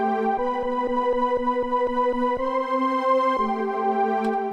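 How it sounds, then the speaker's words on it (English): Tube synth playing the rich swell preset in MPC Beats, sustained bright chords with a steady pulsing rhythm and a chord change partway through, playing alone without talk. "this preset is called rich swell"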